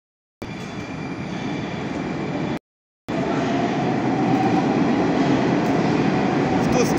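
A Moscow metro train rumbles steadily through a tunnel approaching Savyolovskaya station on the Big Circle line, a loud continuous roar with a brief break, growing slightly stronger toward the end.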